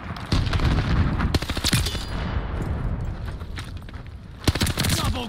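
Rapid gunfire in Call of Duty Vanguard, with dense bursts of automatic shots and sharp cracks coming in clusters, loud and close, including a heavy burst near the end.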